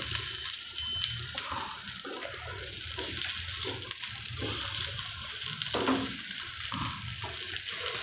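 Methi bites frying in hot oil in a Gujarati kitchen, a steady, bubbly sizzle that runs without a break from start to finish, close and fairly loud with no voices.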